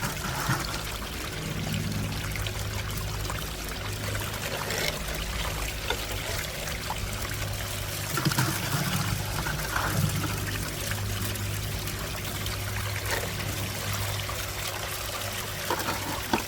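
Water flowing steadily through a California mini high banker sluice set at claim-level flow, a continuous close pouring and trickling wash with no talk.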